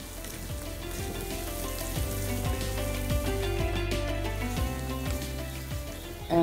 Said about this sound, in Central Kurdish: من پیازەکە و زەرچەوەکەم سوور بۆیەوە